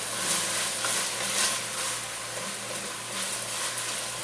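Peppers simmering with potatoes and cheese in a pan make a steady, soft bubbling sizzle, continuous and close with little variation and no talking.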